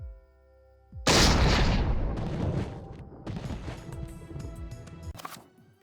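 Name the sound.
explosion in Eternal Darkness video game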